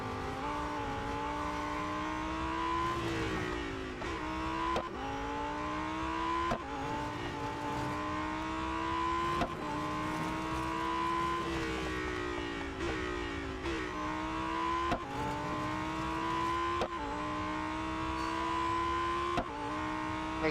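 Lamborghini Huracan STO racing in Real Racing 3, its engine revving hard through repeated upshifts, each gear climbing in pitch then dropping, loud and continuous with no talk.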